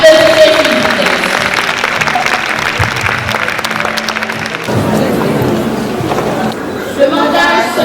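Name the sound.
applause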